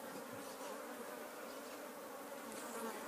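A captured swarm of bees hums steadily and faintly around a hive box outdoors, a continuous even buzz with no break throughout.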